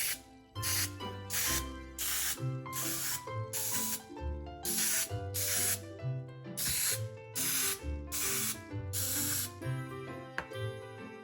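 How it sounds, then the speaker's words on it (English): Cooking spray greases a standard 12-cup baking pan in a run of short, evenly spaced hissing bursts, about ten of them. They sound close and sit over steady background music. "Now let's grease this standard 12 cups baking pan."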